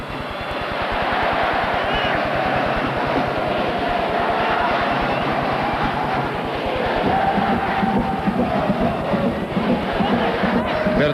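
Football stadium crowd at a 1994 Japanese league match between Nagoya Grampus and Jubilo Iwata gives a sustained, loud roar with a fast rhythmic pulse underneath, continuous and distant-sounding.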